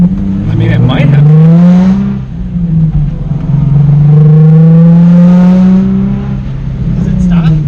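Car on a closed mud lot revving hard close by, its engine note rising and falling through long surging pulls as it drifts, loud and continuous.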